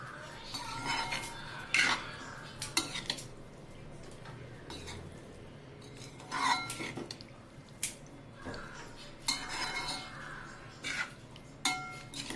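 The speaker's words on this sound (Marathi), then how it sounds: "आता आपण त्याच्यामध्ये हे शिजलेले वाटाणे बटाटा आणि टमाटा हे टाकून मिक्स करून घेऊया" Cooked peas, potato and tomato stirred into a paneer and mixed vegetable dish, a spoon clinking and scraping against the pan in scattered bursts with soft wet squishing between, no talking.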